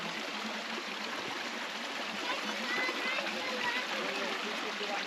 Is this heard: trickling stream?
yes